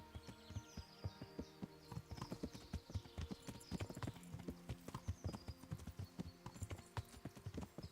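A horse's hooves trot in steady clip-clop rhythm through Kingdom Come: Deliverance, close and distinct, with faint background game sounds and no speech.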